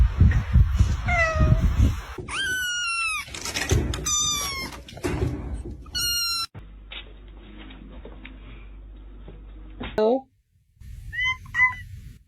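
A house cat meows repeatedly in short rising and falling calls, loud and close, mixed with a person talking, and a few abrupt cuts between the calls.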